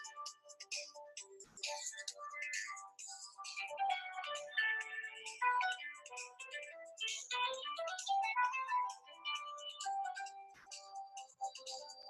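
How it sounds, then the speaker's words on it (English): A mobile phone ringtone plays a sparse, tinkling melody of repeated notes, fairly faint and continuing for several seconds with no talking over it. "sorry, my phone was ringing"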